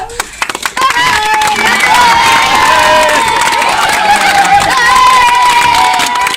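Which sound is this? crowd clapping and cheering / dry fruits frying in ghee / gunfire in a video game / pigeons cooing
crowd clapping and cheering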